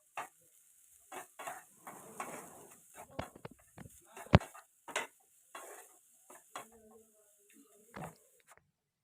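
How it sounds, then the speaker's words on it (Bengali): Oats pulao with capsicum being stirred in a frying pan: intermittent scrapes and sharp clinks of a utensil against the pan over a light sizzle, close and fairly quiet. "এরপর শেষে আমরা ক্যাপসিকামগুলো দিয়ে দেব এবং তারপরেও একটু নাড়িয়ে নেব।"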